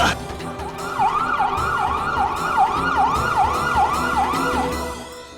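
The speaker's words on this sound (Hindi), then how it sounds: "एम्बुलेंस।" An ambulance siren in an Indian courtroom drama wails in a rapid repeating up-and-down pattern, loud and close, continuing steadily throughout.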